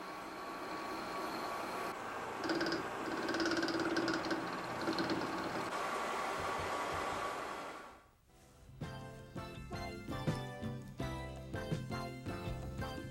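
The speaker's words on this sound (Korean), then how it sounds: "전함의 심장이라고 할 수 있는 엔진." A warship's diesel engine drones steadily in a loud, constant roar inside an engine room, then cuts away abruptly to music for the final seconds.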